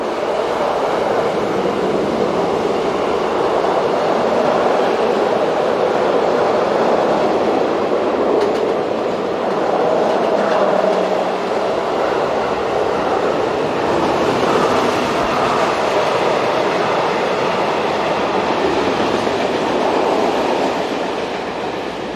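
A train hauled by a class 232 diesel locomotive rolls past on the line from Reichenbach to Nürnberg, a loud, steady rumble with wheel noise that holds for the whole stretch and never fades.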